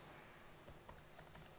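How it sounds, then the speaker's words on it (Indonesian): A computer keyboard typed with one hand: a handful of scattered, light keystrokes, close and fairly faint, over a steady background hiss. "Saya ngetik pakai tangan satu susah banget."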